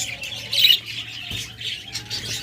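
Pet Japanese lovebirds and budgerigars chirping in short, bright bursts, one louder cluster near the start and softer scattered calls after, fairly close.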